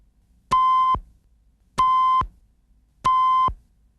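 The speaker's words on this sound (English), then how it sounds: "you'll hear 3 beeps in quick succession" A satellite meter gives three evenly spaced, clean electronic beeps, each about half a second long and roughly a second and a quarter apart, close and clear with silence between them.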